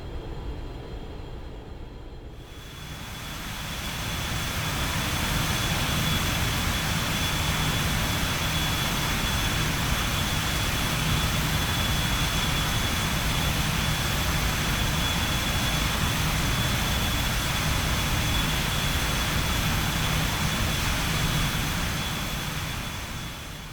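BAe 146 jet airliner taxiing in a flight simulator game, a steady, loud jet engine roar with a high whine that swells in after a quiet start and holds evenly throughout, with no talk.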